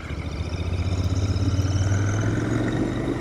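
A Royal Enfield Continental GT 650 motorcycle's twin engine pulls steadily underway, a continuous mid-low drone with a rhythmic throb that swells slightly as it accelerates, near and loud with no talk.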